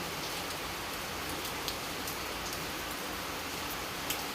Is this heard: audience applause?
no